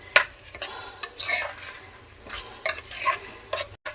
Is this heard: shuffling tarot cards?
no